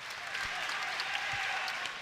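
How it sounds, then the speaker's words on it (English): A crowd at an NCAA men's volleyball match between UCLA and UC San Diego claps in a steady, even wash of applause, filling the arena with constant sound and no distinct beats standing out. "They'll start the slow clap"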